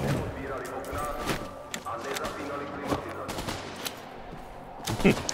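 Gunfire rattles through an Apex Legends match, repeated sharp shots and short bursts at varying distances over steady game ambience, with a voice talking intermittently.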